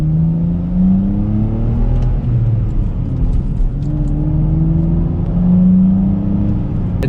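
A BMW engine revs and pulls steadily while driving through snow, its rising and falling drone rough and blatty from exhaust leaks, loud and close throughout with no talk.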